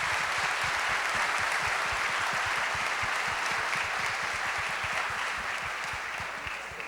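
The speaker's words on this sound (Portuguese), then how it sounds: "Então, eu quero que vocês deem uma salva de palmas." An audience at a public-sector foreign trade event gives a round of applause, a continuous, even patter of many hands clapping that stays fairly constant and eases slightly near the end.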